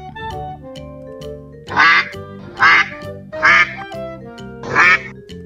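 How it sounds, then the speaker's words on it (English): Four evenly spaced, loud nasal duck quacks ring out one after another over soft, continuous background music, with no voices present. "Duck."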